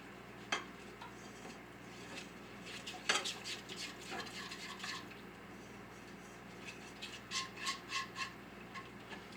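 A spoon stirs a pumpkin spice creamer mixture sweetened with maple syrup in a bowl, with scattered clinks and scrapes against the dish, sharp taps early on and a quicker run of knocks near the end, fairly quiet and without talk.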